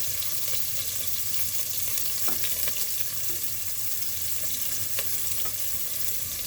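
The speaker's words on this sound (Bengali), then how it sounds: "এই উপকরণগুলো ভালো করে নেড়ে চেড়ে ভেজে নিতে হবে" Cinnamon and onion fry for khichdi in a pan with a steady, close hiss, while a spoon stirs with occasional soft scrapes and taps.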